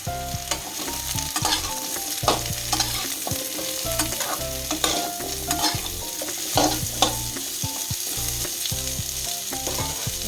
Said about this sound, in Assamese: এতিয়া মই ইয়াতে এয়া ৰঙালাও আৰু আলু কাটি লোৱা এইখিনি দি দিছোঁ